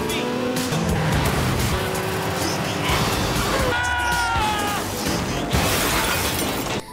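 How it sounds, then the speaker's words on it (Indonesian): A car chase through busy town streets ends with a car smashing into a house, with a roaring engine, squealing tyres and shattering impacts packed into a loud, continuous stretch of action sound. "dia berhasil membuat salah satu peserta lain menabrak sebuah rumah"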